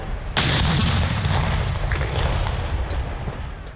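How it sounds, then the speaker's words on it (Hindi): Artillery from a 31-gun ceremonial salute in Islamabad: a sudden heavy boom erupts, then a long, rumbling roar with crackling echoes that slowly fades, loud and distant-sounding outdoors. "दारुल हुकूमत इस्लामाबाद में 31 तोपों की सलामी।"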